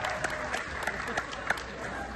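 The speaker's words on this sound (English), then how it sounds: "A round of applause for Mr. and Mrs." An audience applauds at a company event, brief claps rising over a murmuring crowd, with a voice speaking underneath.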